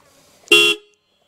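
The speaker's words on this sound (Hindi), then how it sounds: "तो इसका जो हॉर्न है वो भी मैं आपको एक बार सुना दे रहा" One short, loud horn beep from a 2024 Royal Enfield Continental GT 650 motorcycle sounds up close, lasting a fraction of a second, with near silence before and after.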